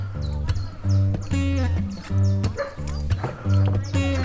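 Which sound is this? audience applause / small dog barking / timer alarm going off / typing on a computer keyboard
small dog barking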